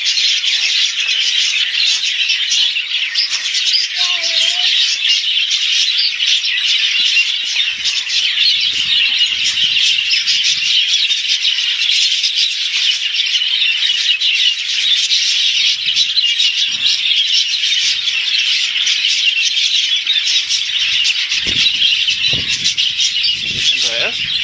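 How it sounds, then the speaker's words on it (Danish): A dense chorus of many small birds chirps and twitters nonstop at an outdoor adventure playground, bright and loud throughout, with faint voices now and then underneath. "Der er mange fugle. De siger pip, pip, pip"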